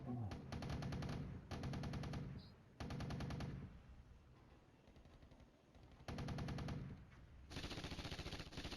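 Rapid bursts of gunfire and explosive artillery barrages from the wargame Flashpoint Campaigns: Red Storm, repeating in loud clusters with quieter gaps between, heard alone without talk.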